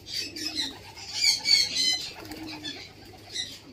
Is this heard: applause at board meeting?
no